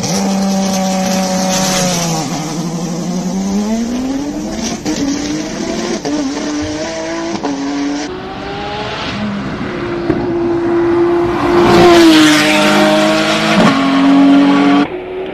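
Race car climbing the Simola hillclimb course, its engine loud and close, repeatedly revving up through gears with rising and falling pitch sweeps, a sustained high howl near the end.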